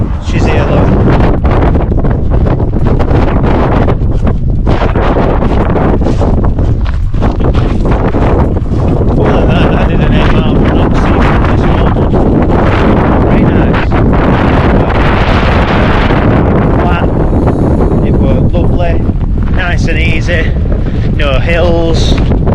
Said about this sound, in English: I don't know if the microphone's picking it up and you can't hear my voice, but it is a little bit windy.